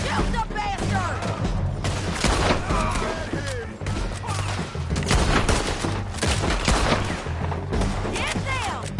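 Rapid, heavy gunfire from a Red Dead Redemption 2 shootout: dense volleys of overlapping shots and booms go on without pause, with loud impacts throughout.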